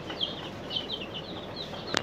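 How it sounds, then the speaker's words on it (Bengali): Farm chicks, about ninety of them, peep softly in rapid repeated chirps at a fair distance, with a brief scuffle or flutter at the very end. "আমার এখানে ফার্ম মুরগির বাচ্চা 90টার মতো আছে"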